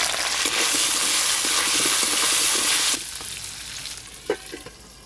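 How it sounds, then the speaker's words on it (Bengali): Taro pieces fry in leftover hilsa fish oil, giving a loud, dense sizzle for about three seconds before dropping to a quieter crackle with a few stirring clinks near the end. "ওই ইলিশ মাছ ভাজার তেলে কচুগুলো ভালো করে ভেজে নেব।"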